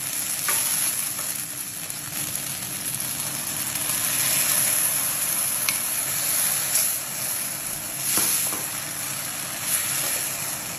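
Chicken masala cooks in a hot pan with a steady, close sizzle and frying crackle, while a spoon stirs through it and blended tomato goes in. No one speaks.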